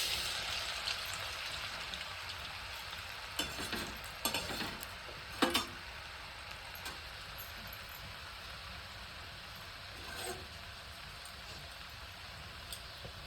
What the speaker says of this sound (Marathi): त्या आता मी तेलात तळण्यासाठी टाकते